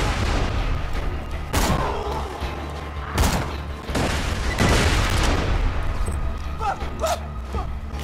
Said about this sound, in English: They're just shooting at my turret.